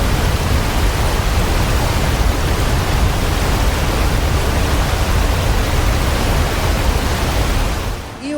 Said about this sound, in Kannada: ನಿಮಗೆ ನನ್ನ ಹಿಂದೆ ಇಲ್ಲಿ ದೂರದಲ್ಲಿ ಒಂದು ಸುಂದರವಾದ ವಾಟರ್ ಫಾಲ್ಸ್ ಕಾಣಿಸ್ತಾ ಇದೆಯಲ್ಲ, ಇದೇ ಮಾರ್ಲೇಶ್ವರ ವಾಟರ್ ಫಾಲ್ಸ್ ಆಗಿದೆ.